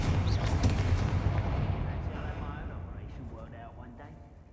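An explosive Confringo spell goes off in Hogwarts Legacy with a loud booming blast, followed by a long rumbling decay that fades out over several seconds.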